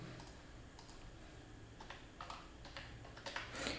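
Quiet, steady tapping on a computer keyboard, a run of close, light key clicks with no talking over it.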